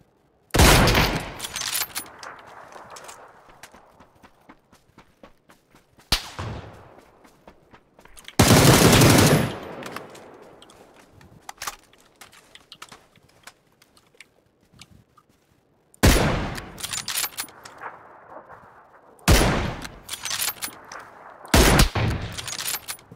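Loud bursts of PUBG gunfire on PC crack out in separate volleys, some single shots and some rapid strings, with quiet gaps and faint background ambience between the bursts.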